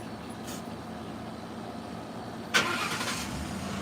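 A car engine hums steadily at idle, then swells with a sudden louder surge as the car pulls forward, settling into a fuller, continuous running drone close by.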